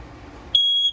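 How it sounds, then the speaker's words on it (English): One loud, high-pitched electronic beep from a smoke detector in a 2021 RPOD 202 travel trailer, lasting about a third of a second, cutting through low background rumble. "Straight up from here, we've got our smoke detector."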